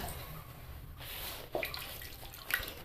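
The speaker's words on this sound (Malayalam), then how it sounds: "നമ്മൾ തേങ്ങ അരച്ച പാത്രത്തിലും ചോറ് അരച്ച പാത്രത്തിലൊക്കെ കുറേശ്ശെ മിച്ചമുണ്ട് അതിലേക്ക് കുറച്ച് വെള്ളം ഒഴിച്ച്" Water poured into grinding vessels holding leftover coconut and rice paste for palappam batter, with faint splashes and brief drips that come in short bursts over a quiet kitchen background.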